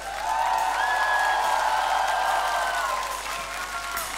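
Crowd at an outdoor summer concert in Stalowa Wola applauding, a broad, loud wash of clapping and cheering that holds steady, then eases slightly near the end.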